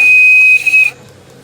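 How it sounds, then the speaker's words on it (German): A model steam locomotive whistle at a large-scale train meet in Schkeuditz gives a single sustained high tone for about a second, then cuts off abruptly, leaving faint background noise. "Simone, Pfiff, Abfahrt."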